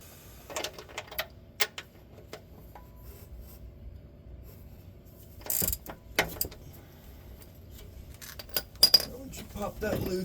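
A ratchet wrench with a 17 millimeter socket loosens the oil drain plug on a 2000 Honda Accord, giving a few brief clicking and clinking bursts against a quiet background, close by, with someone speaking.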